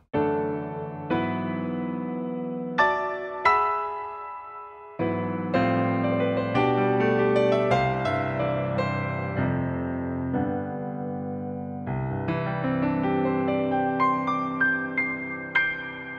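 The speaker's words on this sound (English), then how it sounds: "what you heard there was not only an amazing piano sound" Yamaha Genos arranger's CFX Concert Grand piano voice with digital effects, playing a loud, full solo passage of rich sustained chords and melody that ring on without pause.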